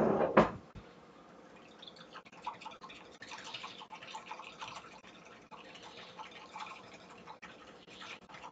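A whisk scrapes and taps around a bowl of sugar mixture, a quiet, steady rhythmic clicking after a brief louder clatter at the start, with no talk.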